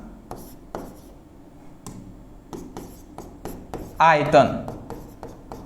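Writing on a board during a chemistry lesson on molarity: a series of light, sharp strokes and taps spaced irregularly, with a louder scratchy scrawl near the end, under a teacher speaking Hindi.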